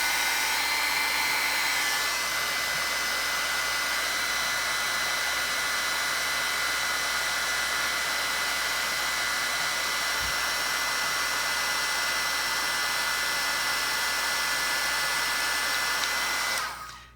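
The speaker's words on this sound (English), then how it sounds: "Now I'm gonna go ahead and I'm just going to hit it with my heat gun" A heat gun blows continuously for about fifteen seconds, drying Tim Holtz embossing glaze on a craft project. Its steady, loud, fan-like hot-air roar stays constant, then cuts off abruptly at the end.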